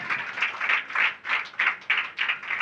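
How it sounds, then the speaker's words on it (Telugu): A church congregation claps during a pastor's sermon, about nine fairly even, rhythmic bursts of many hands, moderately distant and soft, with no talk over it. "చప్పట్లు కొట్టాలి మరొకసారి."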